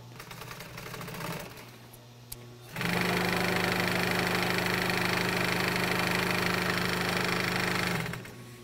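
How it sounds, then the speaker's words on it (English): A sewing machine stitches loops for car headliner bows in a shop making interior trim, its steady whirring drone starting after a quieter stretch and running continuously for several seconds before stopping. "she's sewing in the loops for the headliner bows right now"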